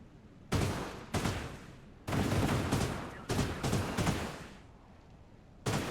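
Gun tower in the sci-fi strategy game Industries of Titan firing in heavy bursts: several loud, abrupt volleys of rapid shots, each with a short decaying tail, separated by brief near-silent gaps.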